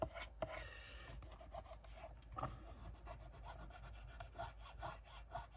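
Bone folder rubbing along paper creases in a grungy steampunk lapbook made from a Reader's Digest, a faint, close, repeated scraping stroke with short pauses between passes.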